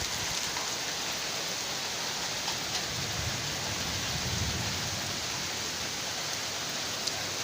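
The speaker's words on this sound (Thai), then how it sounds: "ตอนนี้ฝนยังตกนะครับ" Steady rain falls, a soft, even hiss of drops that continues without pause.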